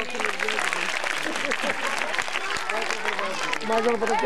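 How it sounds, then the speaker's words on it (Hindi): A crowd applauds loudly for a child performer at a theatre show for flood-affected children, continuous clapping with scattered voices and cheers mixed in. "एक दफा फिर जोरदार तालियां इस बच्चे के लिए।"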